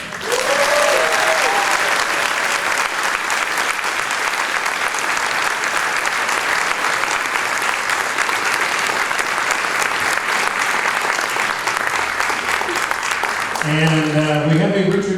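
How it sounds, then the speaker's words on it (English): A large crowd breaks into sustained applause and cheering at an event honoring a former football player as Father of the Year, dense clapping throughout with a few brief voices and a whistle-like tone near the end. "Let's give him a really big cheer."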